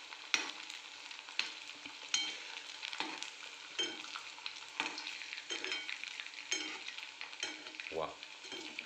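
Spicy cabbage pakodas deep-fry in oil with a soft, bubbling sizzle, broken by frequent stirring clinks and scrapes at a fairly quiet level, without any voices.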